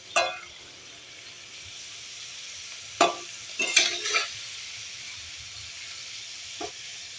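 Steady sizzling of an eggless egg-style dish frying in a pan, with a few sharp clinks and scrapes of a utensil stirring it. No voices.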